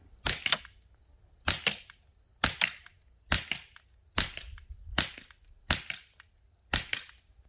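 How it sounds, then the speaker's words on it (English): Eight sharp gunshots fired at a powder can at a steady pace, about one every second, each loud crack followed by a brief ringing tail against a quiet background. "I guess I'm going to shoot that powder can."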